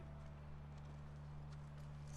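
Horse hooves clip-clop at a walking pace in The Last of Us, a faint rhythmic patter set over a steady low background hum.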